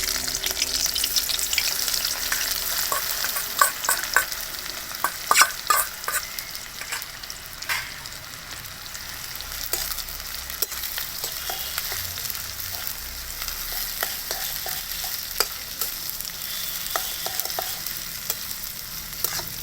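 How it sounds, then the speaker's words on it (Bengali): Thinly sliced chopped onions fry in hot oil over a fire, making a loud, continuous crackling sizzle with frequent sharp pops and stirring noises close by, with no talking. "পেঁয়াজটা একটু ভাজা ভাজা হোক,"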